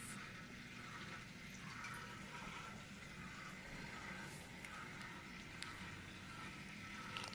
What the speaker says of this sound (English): Just pour the whole thing, the whole water in.